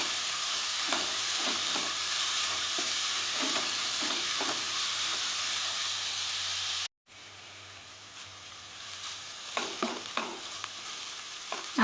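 Chopped onion sizzles steadily in hot oil in a pan while making a quick amaranth leaf stir-fry, a continuous close frying hiss with a brief break and occasional stirring scrapes.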